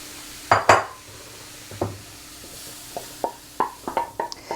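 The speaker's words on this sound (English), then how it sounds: "I'm gonna take them off the heat and put them in a bowl to cool." Cooked leeks are scraped from a pan into a bowl, with sharp clinks and scrapes of utensil on metal and ceramic, a few heavier knocks, then quicker light taps under a faint sizzle.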